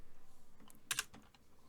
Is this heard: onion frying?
no